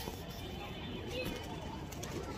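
Pigeons coo softly among a large flock kept for flying, low murmuring calls heard faintly in the background under ambient noise.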